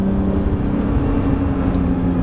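Modified 2017 Acura NSX hybrid on air suspension, heard from inside while driving: a steady, loud engine drone with low rumble and a whirring tone, holding constant throughout without speech.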